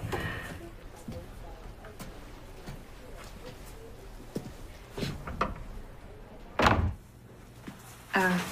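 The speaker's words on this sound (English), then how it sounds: "Do you mind just closing the door?" A door is closed in a quiet room, landing with a solid thud near the end and a second knock just after, over faint background murmur.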